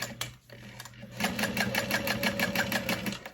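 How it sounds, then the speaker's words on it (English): A sewing machine stitches a nameplate onto a fabric wallet: a few hesitant starts, then a fast, even run of close stitching that carries on to the end. "I'm just going to sew it down really quick into place."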